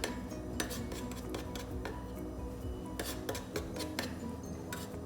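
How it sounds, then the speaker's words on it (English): Spätzle dough is scraped out of a Thermomix bowl into a pot, with repeated metallic scrapes, clinks and taps of a utensil against the bowl, close and fairly quiet, irregular in rhythm. "You can scrape them straight out of the bowl here."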